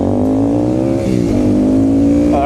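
A car following close behind revs its engine loudly, the pitch climbing and dipping in a sustained, near roar.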